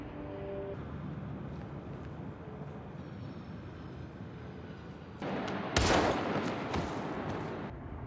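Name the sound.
gunshot in a film, shot in the head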